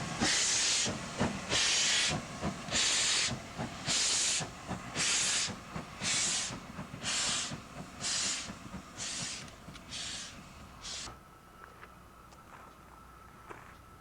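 LMS steam locomotive 48773, built by North British in Glasgow, working on a preserved railway, puffing in a steady rhythm of about a dozen sharp exhaust chuffs over a constant hiss before the beats fade out, leaving a quieter background.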